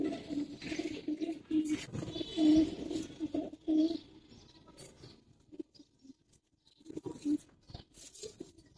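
Giribaz high flyer pigeons coo softly in short, low, repeated bursts, faint and close, with some rustling and scratching between calls and quiet gaps toward the end.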